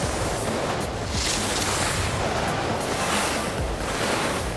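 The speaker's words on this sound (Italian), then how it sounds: "Il vento tira sulla neve" Wind roars steadily over snow on a ski course in the video game Alpine Ski Racing 2007, a loud, continuous broadband rush with gentle surges and no voices.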